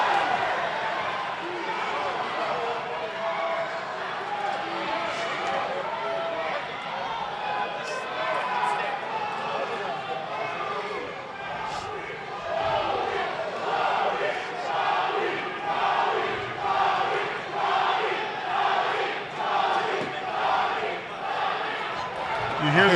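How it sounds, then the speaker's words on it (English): Crowd at an MMA fight night chanting a fighter's name, rhythmic pulsing chant rising through the second half over a commentator talking steadily. "They chant Antonio Garcia on."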